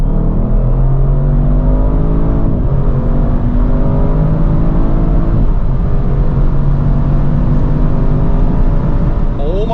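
An Audi RS6 Performance with 630 hp accelerating hard from 100 to 200 km/h on the Autobahn, heard from inside as a loud steady engine roar with rising pitch sweeps through gear changes.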